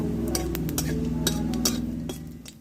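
Dried chillies, whole cumin and a bay leaf sizzle in hot oil in a pan, with soft frying hiss under light clinks and stirring taps of a utensil against the pan.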